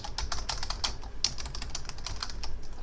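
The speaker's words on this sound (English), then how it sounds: "A13, I'm going to type total interest." Steady typing on a computer keyboard, a close, quick patter of light key clicks with no pauses and a faint room hum underneath.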